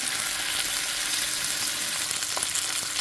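Sea bream sizzling in a hot pan, a steady, loud hiss of frying oil with faint crackles and pops running continuously.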